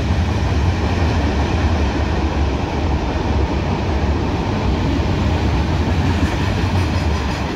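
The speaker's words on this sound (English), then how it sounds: "It's Mixed Freight heading west." A long CSX mixed freight train heading west rolls past at close range, a loud, continuous rumble with steady rail noise and no break.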